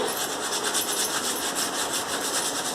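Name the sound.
scrubbing oil paint stains off kitchen tiles with cleaning liquid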